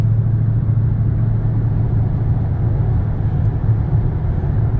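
A Dodge Charger Hellcat heard from inside the cabin as a loud, continuous low engine rumble and drone, steady throughout with no clear separate shift blips.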